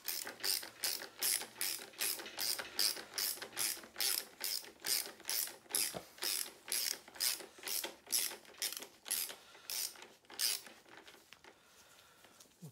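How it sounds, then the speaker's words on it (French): A ratchet with an 11 mm socket unscrews the belt tensioner on a Citroën 2CV Méhari 602 cc engine, giving a long run of rapid, evenly spaced clicking strokes, loud and close, slowing and fading near the end. "je prends la douille de 11 avec une clé de 11 et on va dévisser la partie justement le tendeur de courroie"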